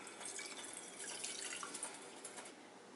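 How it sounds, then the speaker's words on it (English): About three-quarters of a cup of water is poured into a pot to make ginger tea, a quiet, steady trickle and splash with faint drips throughout. "I'm adding almost 3 by 4 cup of water."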